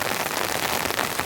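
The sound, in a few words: heavy winter rain pouring down on a shelter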